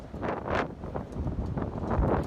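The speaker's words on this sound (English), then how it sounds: "the storms are bringing some strong gusts downtown." Strong wind gusts from a downtown Las Vegas storm buffet the microphone, making a rough, fluctuating roar that rises and falls through the clip.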